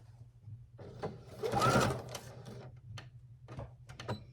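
A sewing machine back stitching fabric for a small boxy pouch, a close mechanical whir that rises and speeds up in the middle, with lighter ticking clicks before and after.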